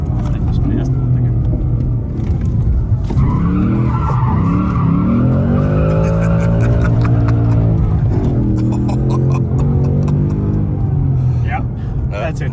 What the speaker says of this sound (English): We have finally found some way to drift the new Mustang Dark Horse.